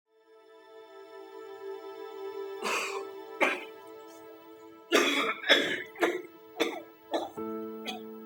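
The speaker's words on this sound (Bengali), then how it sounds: "কাশিটা মনে হয় বাড়লো বাবা" A run of harsh coughs, about seven bursts close together, with a soft tonal hum lingering in the background.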